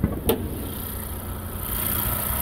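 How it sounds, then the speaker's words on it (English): A 2013 Honda Accord LX with a 2.4 engine idles steadily with the hood open, a smooth, even hum heard up close after a brief click at the start. "Now I'm gonna get underneath the hood and we're gonna get a better sound of the engine"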